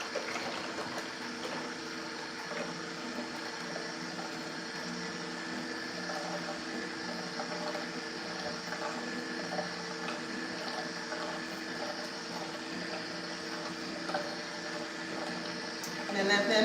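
Papaya juice runs out of a Nama juicer in a kitchen, a steady wet trickling and motor hum that continues unbroken at moderate loudness.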